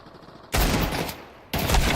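Desert Eagle gunfire in a competitive shooter video game match: two sharp, loud bursts, one around the half-second mark that rings on and a second a second later, over a quiet background.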